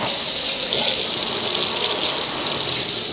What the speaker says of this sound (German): Kommt da warm Wasser?